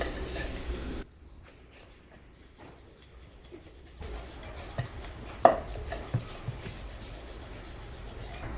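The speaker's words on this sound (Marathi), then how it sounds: "दोन्ही साईडने व्यवस्थित पीठ लावून घ्यायचे आपल्याला आणि अगदी हलक्या हाताने आपल्याला लाटायचं आहे" A rolling pin rolls onion paratha dough on a floured board with soft rubbing strokes and a few light knocks, fairly close and quiet.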